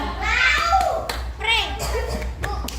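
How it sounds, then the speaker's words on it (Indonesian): Schoolchildren in a fourth-grade classroom giving a rhythmic appreciation clap, short bursts of hand clapping mixed with loud children's voices chanting together, close and lively. "Kasih tepuk apresiasi buat kelompok 3."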